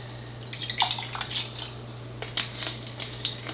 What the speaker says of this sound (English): I'm going to just pour some of this in the glass